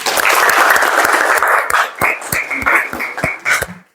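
Classroom applause from a small group of students, a short burst of dense clapping that loosens into sharper, more separate claps before stopping.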